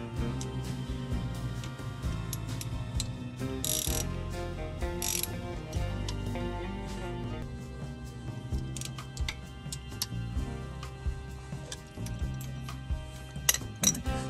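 Ratcheting on a plug in the rear differential of a Camaro ZL1 1LE, a steady run of close mechanical clicks with a few louder clacks near the end, no talking.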